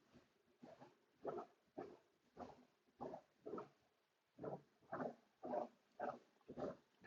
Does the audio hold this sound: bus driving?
no